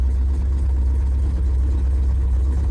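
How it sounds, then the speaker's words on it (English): An old car engine that has sat unused, idling at roughly 800 to 900 RPM, a steady low rumble with an even throb, close and constant for about three seconds with no talk. "Idling at about 800, 900 RPM."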